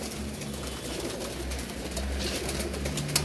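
Teddy pigeons coo softly and repeatedly, with low murmuring calls over a steady background hum.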